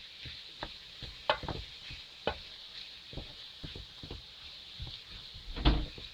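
A spoon stirs Ghanaian fish pie filling, vegetables sautéing in a pan, giving scattered scrapes and knocks over a steady sizzle, one louder clatter near the end.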